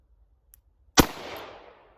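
A single sharp report from a Charter Arms Bulldog .44 Special revolver, loud and close, with a brief echoing decay at an outdoor range after a moment of quiet.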